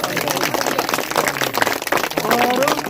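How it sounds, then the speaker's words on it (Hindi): Guests at a Buddhist wedding clap in welcome of the couple, a dense, steady patter of many hands lasting throughout, with faint voices mixed in. "आप लोग जोरदार तालियों से स्वागत करें"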